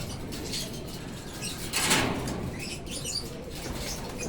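Low-fly pigeons in a loft beat their wings in a brief burst, with steady background hiss and faint chirps around it.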